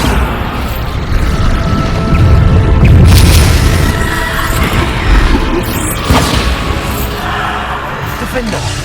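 Bombarda spell explosions in the video game Hogwarts Legacy, loud booming blasts and crashing impacts rolling continuously under energetic shouted voice lines and game effects.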